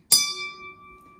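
A container holding a water solution is struck once, giving a sharp tap that rings on as a clear bell-like tone with steady partials and slowly fades, heard alone.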